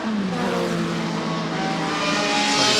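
Historic racing cars, including a Maserati, lapping during the Sussex Trophy race at Goodwood Revival in Sussex, with loud, sustained engine drone and rising pitch as cars pass close by.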